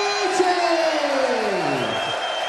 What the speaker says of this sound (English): Crowd on their feet again.